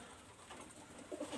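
Red-eyed pigeons coo faintly in a few low, rounded notes toward the end, over a soft, even background murmur.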